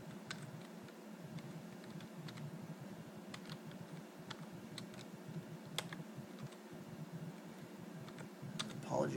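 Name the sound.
typing a password on a computer keyboard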